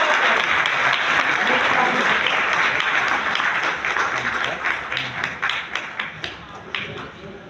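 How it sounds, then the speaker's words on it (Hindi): Audience applause at a Constitution Day event of a Delhi SC/ST teachers' federation: loud, sustained clapping from a crowd that thins toward the end into scattered individual claps. "जोरदार तालियां।"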